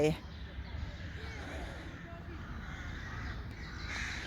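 Crows caw outdoors in a natural setting, faint and somewhat distant, while people talk over them throughout.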